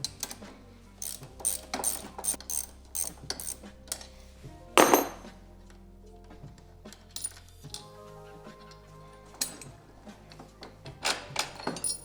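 Hand tools work the lower control arm bolt on a Polaris snowmobile, with a rapid ratcheting clatter, metallic clinks and a sharp clank partway through, all close and fairly quiet with no talk.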